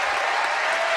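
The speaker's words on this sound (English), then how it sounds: "please a warm round of applause for Mr." Audience applause greets Eric Nixon, introduced as a Hampton University alumnus from New Jersey at a live radio event, a dense, steady wash of clapping sustained at even loudness throughout, with no voices over it.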